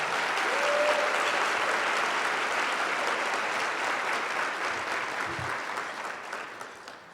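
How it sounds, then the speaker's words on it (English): A luncheon audience applauds steadily for a charity's board of directors and funding committee, a dense even wash of clapping that holds for several seconds and gradually thins toward the end. "Please give these folks a well-earned round of applause."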